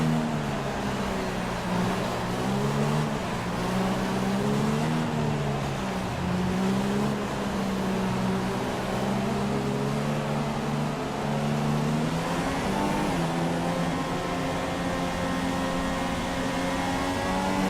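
A Formula 1 car's engine drones steadily through a formation lap in F1 2016, a loud continuous high-pitched whine that rises and falls slightly with throttle, heard alone without talk.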